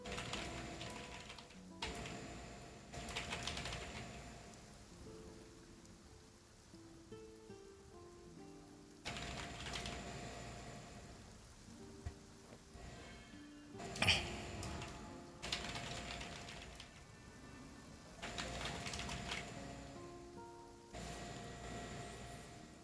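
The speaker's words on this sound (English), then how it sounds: "Intense typing." Fast, intense typing on a computer keyboard, soft and somewhat distant, coming in irregular clustered bursts over background music.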